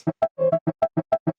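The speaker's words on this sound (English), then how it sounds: "I even made a shaker loop out of the original sample" A dry, regular shaker loop made from a piano sample, with pitched, piano-tinged tones, about nine even hits in quick steady rhythm, close and clear with no voices.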